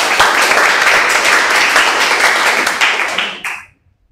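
Classroom clapping from a group of students, a dense burst of applause lasting about three and a half seconds before cutting off abruptly into silence.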